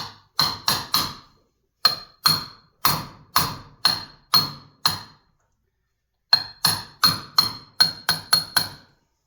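Repeated metallic hammer blows drive a seal into a New Holland 4-wheel-drive drop box with a seal driver, about a dozen sharp clanking strikes in two steady bursts separated by a pause, close and loud with no talking.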